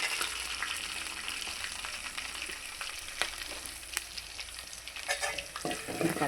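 Whole spices and asafoetida powder tempering in hot oil, a steady dense splutter and crackle with sharp pops scattered throughout, close and fairly loud, with no talking.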